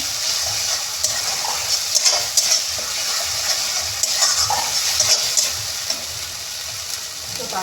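Ginger garlic paste fries in a pan for a spicy dried fish curry, giving a steady bright hiss with small crackling bursts throughout, close and fairly loud with no talk.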